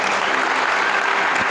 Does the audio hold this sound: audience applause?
yes